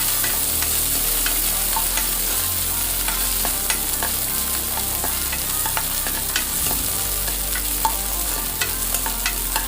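Shallots, green chillies and garlic sizzle and crackle in hot oil in a pan, with steady frying hiss and intermittent sharp stirring scrapes close up, no voices.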